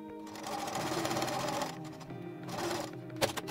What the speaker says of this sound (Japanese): このように待ち針で固定してミシンで縫います。